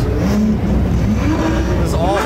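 Several supercars including a Lamborghini Murcielago idle and rev together at a Dream Rally lineup, a continuous loud engine rumble with rising revs, mixed with people talking nearby.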